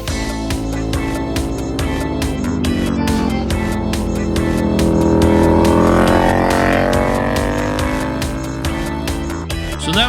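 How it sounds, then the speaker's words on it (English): A Suzuki V-twin motorcycle with a full exhaust system and an M4 can, its engine roaring steadily and loudly close by, rising in pitch and intensity through the middle as it revs, then easing back toward the end. "So that was the sound of a Suzuki with the V-twin,"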